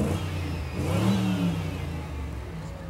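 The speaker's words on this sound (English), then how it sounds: "It's a 1948 stake body farm truck." A 1948 stake body farm truck rolls along in a Christmas parade in Wells, Maine, its engine droning close by and swelling briefly in a rev before settling back to a steady rumble.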